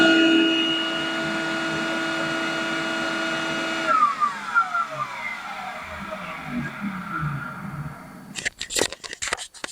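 A decade-old Ridgid shop vacuum roars loudly with a strong whine, then shuts off and spins down, followed by scattered crackling and clattering noises.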